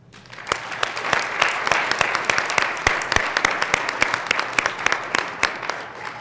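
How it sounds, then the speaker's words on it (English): Applause from a small audience at a school board of directors meeting, individual claps distinct and fairly close, rising quickly and holding steady. "If you could join me in an applause."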